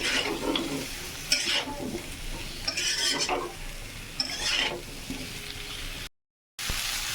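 Cauliflower and potato pieces fry in oil in a pan for a fish curry, a soft steady sizzle broken by repeated scraping stirs with a utensil, close and fairly quiet.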